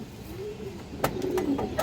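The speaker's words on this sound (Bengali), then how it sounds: "বড় সাইজের একটা কবুতর" A large pigeon coos with low, rolling calls, fairly close, over faint background noise, with a couple of sharp clicks near the end.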